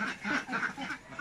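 Ducks on a typhoon-hit vegetable farm give a run of short, nasal quacks in quick rhythm, fairly close but soft, with no voices.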